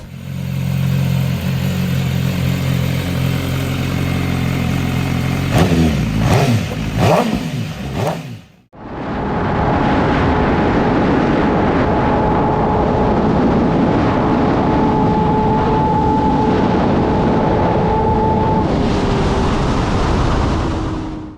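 A large naked motorcycle engine revs hard and loud, with steady high-pitched whine and roar, briefly dropping off before surging back for a long sustained run.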